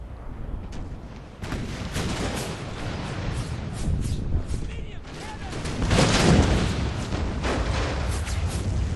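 Cannon artillery fires during a Gettysburg Pickett's Charge battle in Napoleon: Total War, a dense rumble of repeated booms and crackling volleys swelling toward the end, with someone talking over the din.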